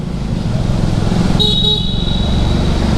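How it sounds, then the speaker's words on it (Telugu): A vehicle horn honks once, briefly, inside a large road tunnel in northeast India, ringing out over the steady rumble of traffic and engine noise. "టన్నెల్లో హారన్ కొడితే మస్తు అనిపిస్తుంది."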